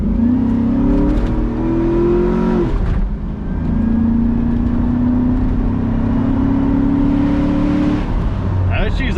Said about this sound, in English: let's just go ahead and give it some gas right away